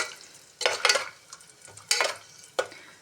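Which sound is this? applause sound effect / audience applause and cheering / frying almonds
frying almonds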